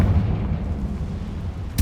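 A Confringo blasting curse in Hogwarts Legacy goes off as a deep, rumbling explosion that rolls on for under two seconds, closed by a sharp crack at the very end.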